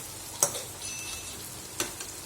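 Meat and potatoes fry together in a pan, a steady soft sizzle with two faint clinks, heard alone without talk.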